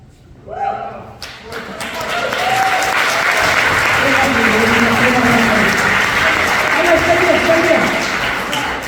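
Audience applause for a kapa haka group performing at a Ministry of Justice concert, a large crowd clapping loudly and steadily after a voice speaks over a microphone, with cheers and voices mixed into the sustained applause.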